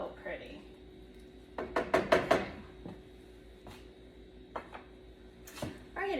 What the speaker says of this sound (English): I'll just give the sauce a stir here.